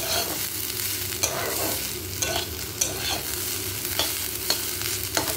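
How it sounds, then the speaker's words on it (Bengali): Steady oil sizzle from carrots frying in a pan, with a few sharp scrapes and clinks of a utensil stirring at irregular intervals. "গাজরটা ভেজে নিচ্ছি, তারপর মাংসের আলুটা ভাজবো।"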